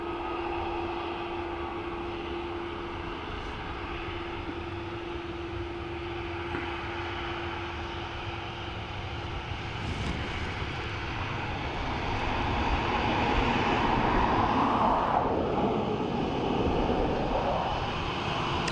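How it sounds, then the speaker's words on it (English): A British Airways A320 arriving from London Heathrow at Dublin Airport, a steady broad engine roar that swells louder toward the end as the jet passes, heard alone without talk. "A320 BA in from London Heathrow"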